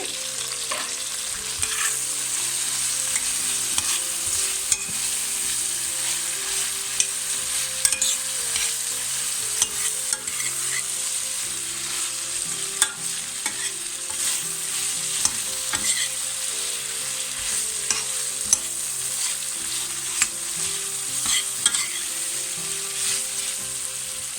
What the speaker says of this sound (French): Je rajoute mon ail que j'ai préalablement émincé.